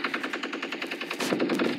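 Rapid automatic gunfire in the video game Fortnite, a steady run of close, evenly spaced shots lasting under two seconds with no talking.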